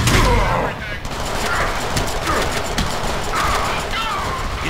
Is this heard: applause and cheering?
no